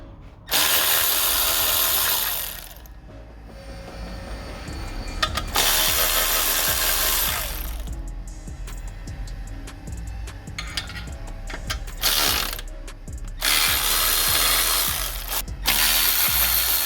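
Bursts of a ratchet wrench clicking rapidly while removing 12 mm bolts during a Nissan Qashqai clutch replacement, several separate runs with short pauses between, close and loud, amid mechanical workshop noise.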